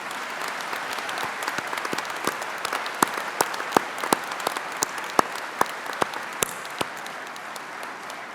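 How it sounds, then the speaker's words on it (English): Graduates at a Swinburne graduation ceremony in a hall give a steady round of applause, with a dense wash of clapping and sharper individual claps standing out near the front throughout. "could you please join me in a round of applause"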